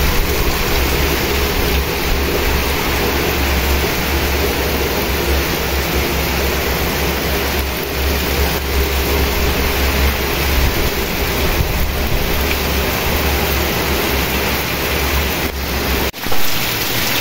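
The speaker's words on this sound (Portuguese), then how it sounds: "Muita chuva." Heavy rain falls steadily in the Pernambuco sertão in the late afternoon, a loud, continuous broadband hiss and roar with no break, with water running down nearby and no talking.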